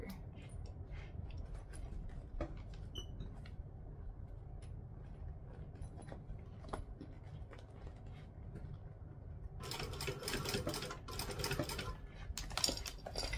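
A sewing machine stitches fabric for a Dollie bag, faint and soft at first with small clicks and taps, then a louder burst of rapid stitching near the end.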